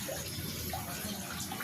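Water pours steadily into a drum that is nearly full, a dense, continuous gushing roar that stays loud and even throughout, close up with no voices.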